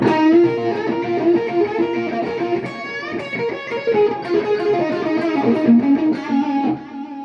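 Electric guitar played through a Mooer GE-100 multi-effects processor, a melodic line with sustained notes and harmonic shimmer, loud and up close, no voices.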